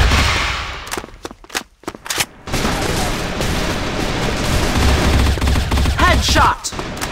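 Rapid gunfire from a first-person shooter video game, dense bursts of automatic shots and booms, loud and continuous with a brief lull partway.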